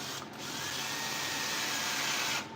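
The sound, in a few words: power screwdriver driving a screw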